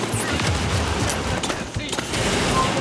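Rapid bursts of gunfire from The Division video game, set at the Russian Consulate in online play, crackle loud and near almost without pause, with a few heavier booms mixed in.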